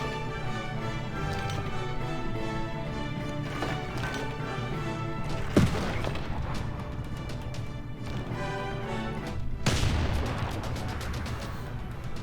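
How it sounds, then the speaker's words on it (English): A field cannon fires on a city in the video game Civilization 6, with two heavy booming blasts several seconds apart over a continuous musical and ambient bed. "that field cannon did some pretty nice damage to that city"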